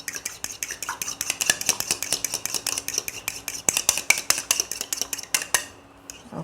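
An egg is beaten in a bowl with cutlery, giving a quick, steady run of light metallic clicks and taps against the bowl that stops near the end.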